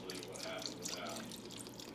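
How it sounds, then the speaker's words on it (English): Broth pours into a pot of Texas chili with browned red meat, a steady watery splashing and trickling that stays close and continuous for two seconds with no talk over it. "And then I'll add the broth."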